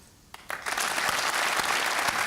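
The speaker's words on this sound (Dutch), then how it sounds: "En het applaus is voor jou." At a sports gala, an audience breaks into applause and sustains steady, dense clapping that fills the hall, with no talk over it.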